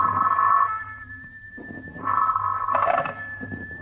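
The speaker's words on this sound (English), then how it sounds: "the next morning, the phone rang early" A telephone rings twice as a radio drama sound effect, each ring a bright, warbling trill with a pause between them, clear and moderately loud over a faint low hum.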